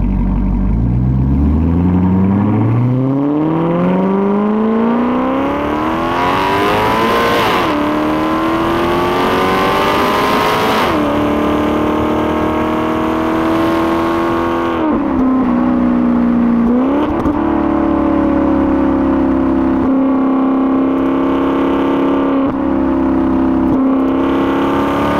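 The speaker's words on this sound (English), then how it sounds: "Without a doubt, one of the greatest soundtracks ever." Maserati GranCabrio engine revving hard and accelerating through several gears, pitch climbing then dropping at each shift before settling into a steady high cruise, loud and close with no talking.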